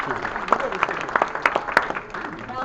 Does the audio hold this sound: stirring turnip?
no